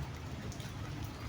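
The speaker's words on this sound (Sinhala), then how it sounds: "වහිනවා මේ දැනුත් කිනිබානවා වැස්ස" Rain falls steadily in a garden where begonias are grown, a soft even patter that stays level and continuous for the whole moment with no other sound standing out.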